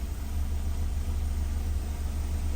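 An ice-cold car engine idles right after starting on a single key turn, a steady low rumble holding even and fairly quiet throughout with no talking.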